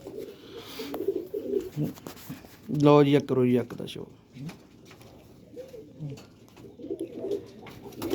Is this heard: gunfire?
no